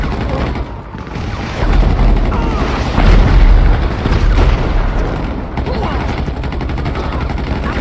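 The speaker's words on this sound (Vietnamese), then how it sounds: "Tụi mày bắn Bezoka nè" Bazooka fire and explosions in the GTA 5 video game boom heavily over dense bursts of gunfire, loud and continuous like a chaotic battle, with several deep blasts through the middle and a voice talking at times.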